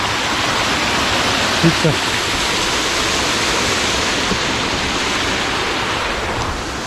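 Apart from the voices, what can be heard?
small stream with a waterfall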